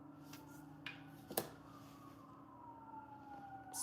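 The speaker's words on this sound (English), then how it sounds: "Sorry, I hear the sirens going." A distant siren wails faintly in the background, its pitch sliding slowly downward, with a few brief clicks and knocks nearby.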